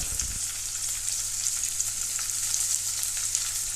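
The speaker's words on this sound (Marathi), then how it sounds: "आतां भितर कांदो घालुया" Chopped onion dropped into hot oil in a pan for a Goan green chilli and clam dish, setting off a steady, close sizzle and frying hiss that holds without pause, with no talking.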